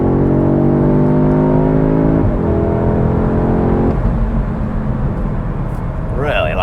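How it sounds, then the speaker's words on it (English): A 2022 Audi S3 compact sports sedan accelerates hard along a smooth road, its exhaust note climbing through two quick upshifts, loud and close from inside the cabin, with a voice joining near the end. "Really like that exhaust noise."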